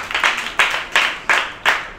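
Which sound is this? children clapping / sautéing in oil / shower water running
children clapping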